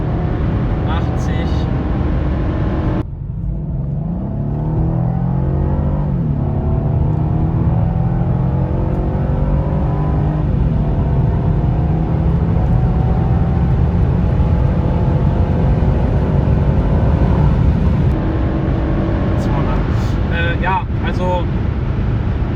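A Mercedes E500 Coupe pulls hard on the autobahn, its engine note climbing steadily through the gears amid loud wind and road roar. A driver talks in German over it.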